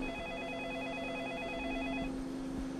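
Telephone ringing indoors with a warbling electronic trill repeating at a steady rate, moderately faint, stopping abruptly partway through.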